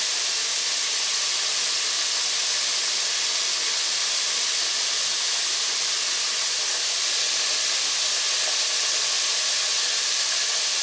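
Sliced onions and jalapeno laid on a hot griddle beside oyster burger patties give a loud, steady, even sizzle that holds unchanged from start to finish, with no talking.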